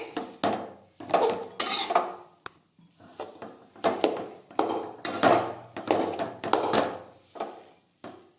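Dates roasting in a pan over a low flame are stirred and pushed around with a utensil, making repeated close scraping and clinking strokes in an uneven rhythm with short pauses between them.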